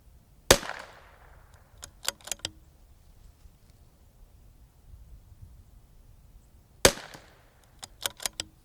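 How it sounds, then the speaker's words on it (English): A Tikka T1X MTR .22LR rifle fires two sharp, loud cracks, one near the start and one later, first from a cold bore outdoors, with a few smaller clicks and knocks in between and quiet surroundings. "It's the first shot I fired out of this gun."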